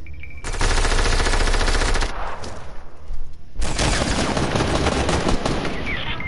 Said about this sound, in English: Yo, people shooting at me.